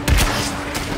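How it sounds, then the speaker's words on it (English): A single-shot grenade launcher in Warframe fires with one close, loud boom that opens the moment, followed by a rumbling decay. "it's a single shot grenade launcher"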